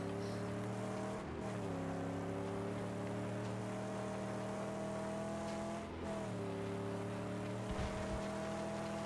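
A car driving across rough terrain in Mad Max, a continuous low engine hum with pitch dips as it shifts or bounces, steady and moderately close, without speech.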